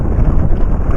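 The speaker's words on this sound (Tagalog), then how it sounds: "ayaw minto ng hangin." Strong northeast monsoon wind buffets the microphone out at sea on a fishing trip, a steady low roaring rumble with gusty fluctuations and no talk.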